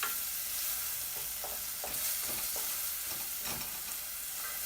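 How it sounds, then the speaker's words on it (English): Onion, garlic, thyme and cumin sauté in a pan for tun cornmeal, a quiet, even sizzle with soft stirring scrapes, close by and without speech. "We're gonna saute the onion and garlic, thyme, as well as the cumin."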